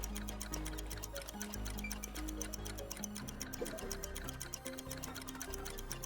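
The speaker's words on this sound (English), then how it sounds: "Oh, the ticking clock is..." A ticking clock countdown in the video game Master Detective Archives: Rain Code, rapid regular ticks running the whole time over a sustained musical score.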